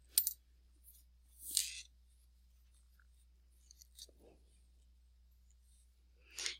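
Scissors trim the yellow yarn on a knitted baby beanie with a sunflower: two or three quiet, crisp snips spaced seconds apart, with faint rustling between them.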